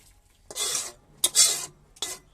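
Boiled vegetable chowmein noodles tipped into a draining basket: three quick bursts of watery splashing and pouring, each about half a second long, fairly close, with no voices.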